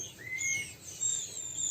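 Week-old white-rumped shama (murai batu) chicks call faintly from the nest in thin, high, wavering peeps repeated over a quiet background.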